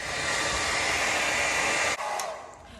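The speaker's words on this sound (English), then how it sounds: "So I'm going to blow dry it" A hair dryer blowing hair dry for braiding prep, a loud, steady close whoosh that holds for about two seconds before a brief dip and a quieter continuing airflow.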